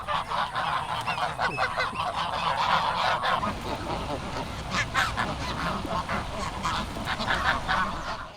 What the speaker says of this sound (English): this nice gentleman came to feed the geese